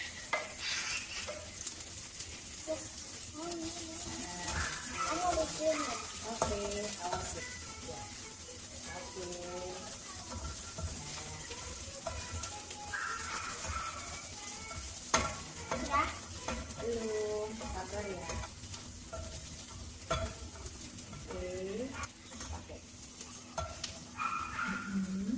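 Onions fry for nasi goreng with a faint steady sizzle and repeated stirring scrapes over about twenty-five seconds, while people talk throughout.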